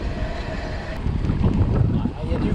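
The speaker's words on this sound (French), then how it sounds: "Il y a du vent" Steady wind roars into the microphone while cycling along the Loire, a continuous rushing buffet that swells slightly halfway through, with no talk.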